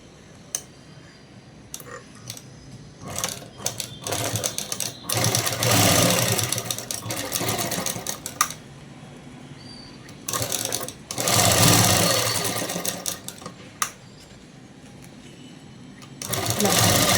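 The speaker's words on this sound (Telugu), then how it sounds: "ఇలా పట్టుకొని కుట్టు అనేది వేసేసుకుందాం" A sewing machine stitches a dress of cloth in fast, rattling runs that start and stop repeatedly, with quieter pauses and handling clicks in between, close and fairly loud.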